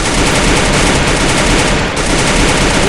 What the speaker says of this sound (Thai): มาดูกันว่าปืนของเรามันจะรัว มันจะแรง มันจะไกลขนาดไหน